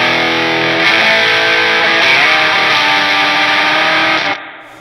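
A heavily distorted electric guitar chord through a VARVAR Velez distortion pedal at full gain rings out loud and sustained, then cuts off abruptly near the end.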